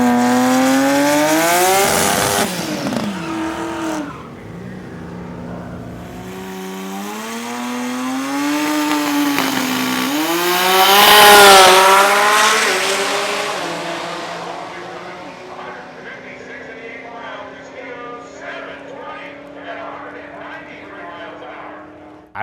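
A 2000 HP billet 2JZ Toyota Supra makes a drag pass, its engine roaring loud and close with rising revs that drop back at each gear change and climb again, a voice talking over parts of the run.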